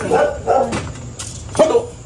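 A dog barks a few times close by, in short yappy bursts with a pause between them.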